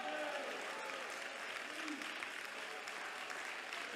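A church congregation at a prayer centre claps together during a sermon, the applause fairly faint and steady throughout with a few voices murmuring beneath it.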